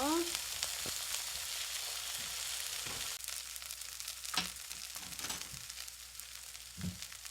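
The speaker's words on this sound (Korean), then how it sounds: "올리브유 한 스푼 정도 두르시고 예, 호박 앞뒤로 노릇노릇 구울 때" Zucchini slices fry in a spoonful of olive oil in a pan over medium-low heat, giving a steady close sizzle with occasional soft scrapes and stirring sounds.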